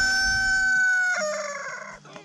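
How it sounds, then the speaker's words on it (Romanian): A rooster crows loudly and close in a traditional mountain village, one long drawn-out call that breaks into a stuttering tail, heard alone with no talking. "Hai să filmăm cocoșul."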